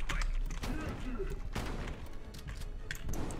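Shotgun fire in the video game Call of Duty: Black Ops Cold War, heavy blasts mixed into a dense, loud battle din with a voice talking over it.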